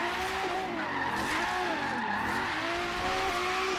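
Regalia being drifted in Forza Horizon 3, its tires skidding and squealing in a continuous wavering howl over steady engine drone, loud and close throughout with no talk.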